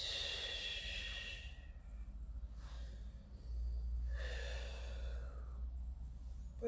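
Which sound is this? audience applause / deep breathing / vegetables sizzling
deep breathing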